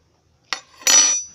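Chopsticks, a spoon and a clear bowl being handled: two quick close clinks, a short tap followed by a longer bright rattling clatter, alone in a quiet room.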